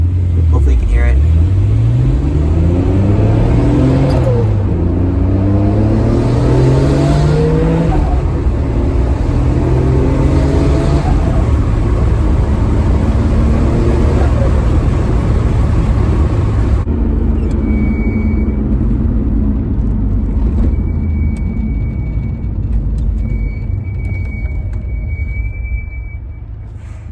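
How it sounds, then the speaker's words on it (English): Nissan R32 GT-R turbo engine on full-throttle pulls in open space, loud rising engine drone climbing through gears with repeated sweeps, later steadier with faint turbo whistle and wind, heard from inside the car. "I'll do some pulls and I'll let you guys hear the turbo sounds"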